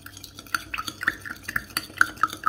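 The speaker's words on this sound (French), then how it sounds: "on va commencer déjà à mélanger tout ça" Chickpea salad with pepper and garlic powder tossed in a bowl, a quick series of light clinks and taps of a utensil against the dish in an irregular rhythm, close and without speech.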